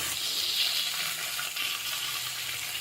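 Potatoes and onions fry with black cumin in a pan, giving a steady, bright, hissing sizzle, close and continuous with no speech.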